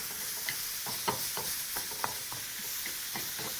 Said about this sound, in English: So just using a spoon, proceed to break down those beautiful chunks of your minced meat.